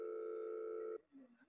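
A steady telephone dial tone sounds while a call is being placed, holding an even pitch for about a second before cutting off abruptly, followed by a brief faint voice.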